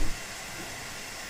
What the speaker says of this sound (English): I know with the Steam engine it's quite loud.